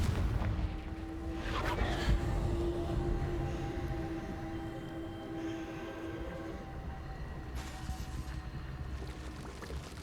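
A Confringo spell cast in Hogwarts Legacy sets off a loud rumbling blast at the start, and a long, heavy roar slowly fades beneath it.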